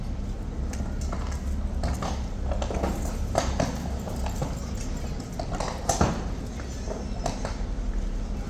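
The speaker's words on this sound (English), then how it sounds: "here come the horses and the troopers" Mounted troopers riding past on horses, their hooves clip-clopping in a steady irregular rhythm on hard ground at moderate distance, with faint talk in the background.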